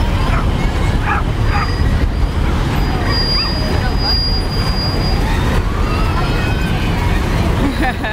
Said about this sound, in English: All those doggies don't like each other.